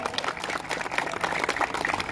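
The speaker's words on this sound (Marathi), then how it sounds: "सगळ्यांनी त्यांच्यासाठी एकदा टाळ्या झाल्या पाहिजेत" Audience applause for a singer at a Narli Purnima Govinda festival celebration in Mira Bhayandar, a dense, steady crowd clapping that fills the whole moment at moderate loudness.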